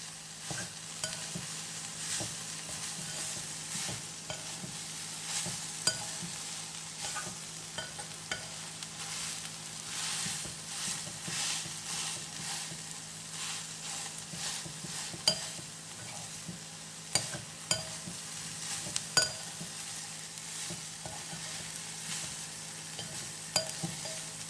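Soya chunks fry in a pan with a steady sizzle while a spoon stirs and scrapes at a regular pace, with occasional metallic clinks against the pan and no talking.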